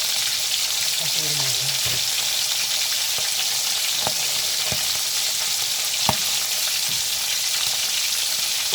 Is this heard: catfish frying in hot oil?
yes